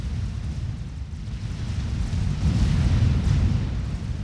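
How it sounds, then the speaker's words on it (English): Tactical missiles striking mass extractors in the strategy game Forged Alliance, heard as a sustained deep rumbling explosion that swells louder midway and keeps roaring, with no talk over it. "Meanwhile, tactical missiles destroying mexes."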